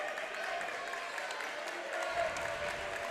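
A crowd at a high school basketball game in Caldwell County cheers and claps in a sustained, roaring wash of noise that swells slightly near the end, with a voice faintly audible underneath.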